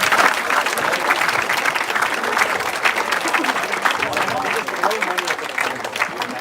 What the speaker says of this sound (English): That's a big round of applause for them.